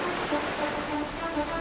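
Strong ocean waves at Baler, Aurora roll in as a steady, broad wash of surf noise, continuous and fairly loud with no pauses and no voices.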